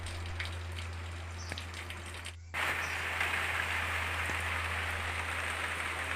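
Steady rainfall in Nawabshah, a dense, even patter and hiss over a constant low hum, briefly dipping before returning louder, with no voices.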